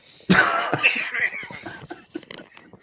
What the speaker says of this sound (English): he still sounds like a genuine cough still